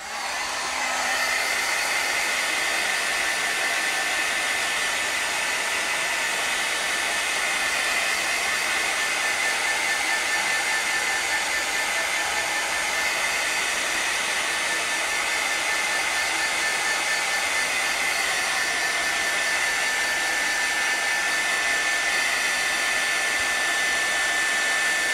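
A hair dryer blows steadily and loudly for a long stretch, drying torn paper pieces for mail art, its even rushing hiss unbroken from start to finish with no talk.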